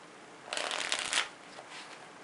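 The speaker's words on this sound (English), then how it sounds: "let's give the cards a good mix-up. Alright, and a few shuffles" A quick riffle of playing cards being shuffled, close and crisp, followed by a softer second shuffle.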